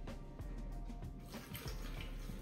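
A cup of water is poured into a blender for a cucumber and lemon smoothie, making a soft continuous splashing trickle, quiet and close, with no talking.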